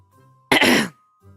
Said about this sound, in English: You're gonna hear me clear my throat a little bit